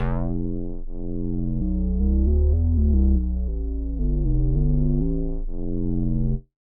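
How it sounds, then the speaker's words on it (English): A thick full-spectrum square-wave bass from a VCV Rack synthesizer plays a slow sequence of sustained low notes, loud and buzzy, ending abruptly. "like full spectrum square bass sound"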